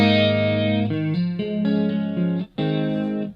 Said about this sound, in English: Add the delay, which has a little bit of pitch shift on it.